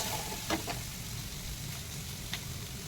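Ginger garlic paste hits a hot pan for mushroom fried rice, giving a soft, steady sizzle with a couple of faint stirring clicks, quiet and close.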